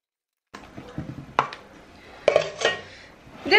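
Red velvet cake batter being stirred in a bowl while melted milk, butter, chocolate and colouring are poured in slowly, with clinking utensil knocks and scraping against the bowl, close and fairly loud, after a brief silent start.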